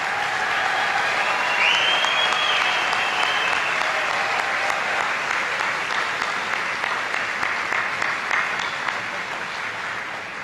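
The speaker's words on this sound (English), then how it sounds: "please give a big round of applause and congratulations to all of our local award recipients" A graduation audience applauds local award recipients, a dense wash of many hands clapping in a large hall that stays loud and steady for about ten seconds, with a faint cheer near the start.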